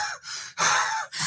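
A human voice imitates a hunting dog panting, producing a few quick, breathy huffs in an uneven rhythm, close and fairly soft with no other sound.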